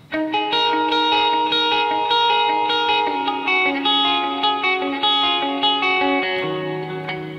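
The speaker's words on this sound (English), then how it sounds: "but even just adding the reverb back on" Electric guitar notes ring out with a spacious, lingering wash of reverb, played steadily for several seconds with sustained tails blending between notes.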